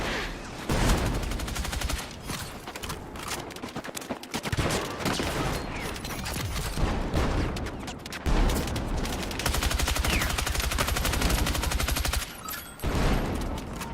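Rapid, sustained gunfire in a game firefight, dense bursts of shots crowding nearly the whole stretch with only a couple of brief lulls, loud and close.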